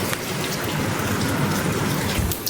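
Steady rain pours down in a Punjabi village, a dense, even hiss of drops striking surfaces that stays constant throughout with no voices.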